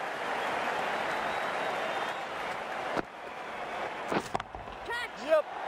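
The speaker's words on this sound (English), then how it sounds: "It's going to be hard for the bowler to focus with the crowd this excited." A stadium crowd in the cricket video game Cricket 19 cheers and applauds in a dense, continuous roar, then cuts off abruptly, leaving brief scattered clicks and a few tonal game sounds.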